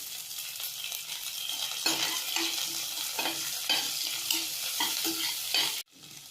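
Curry leaves crackle and sizzle loudly in hot oil over medium heat, with repeated stirring scrapes cutting through a steady hiss that stops abruptly near the end.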